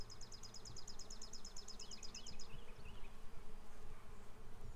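Honeybees buzzing over a hive frame laden with pollen and nectar, a steady soft drone with quick repeated high chirps early on, fairly faint and close, with no voices.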